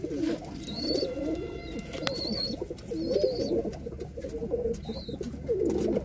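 Indian highflyer pigeons of an old breed coo at a breeding setup, several soft rolling coos repeating throughout against a steady background, with occasional higher chirps.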